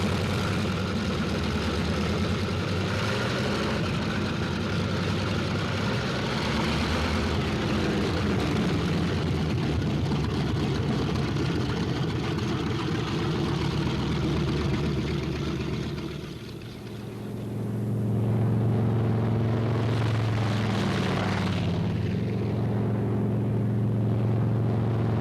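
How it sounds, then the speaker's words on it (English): P-47 Thunderbolt fighter engines warming up on a World War II airfield roar in a steady, heavy drone, dipping briefly before surging back to a deep continuous rumble. "On the field, planes warm up. It's takeoff time for the Thunderbolts."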